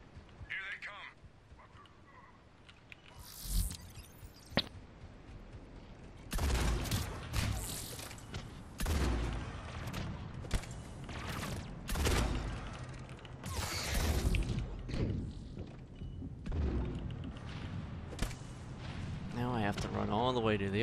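Rocket troopers fire rockets in Mass Effect 3 multiplayer, sharp blasts and rumbling explosions coming in clusters amid other combat noise, with players talking throughout.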